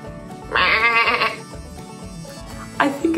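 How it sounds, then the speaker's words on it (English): A goat bleats loudly and close by, one long wavering bleat followed by a shorter second one after a pause, with some faint background noise. "Oh wow, it is a goat."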